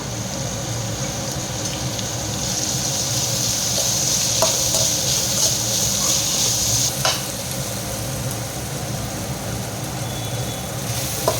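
Ginger and onion sauté in a hot pan for carrot beans poriyal, a continuous close sizzle with occasional scraping stirs and light clinks of the spatula against the pan.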